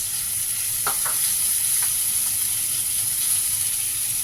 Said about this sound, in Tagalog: And then lagyan natin guys ng sibuyas.